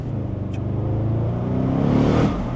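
An Audi RS6 with 560 hp accelerates hard, its engine note rising in a steady, close rumble with a building whir, no voices.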